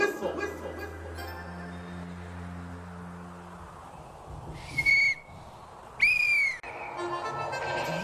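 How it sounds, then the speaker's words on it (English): Two short, shrill whistle blasts sound a second apart over a quiet background, each a single steady high tone. "It sounded like a whistle."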